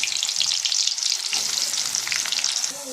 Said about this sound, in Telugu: ఉల్లిపాయ బాగా గోల్డెన్ బ్రౌన్ కలర్ వచ్చే వరకు వేయించుకోవాలి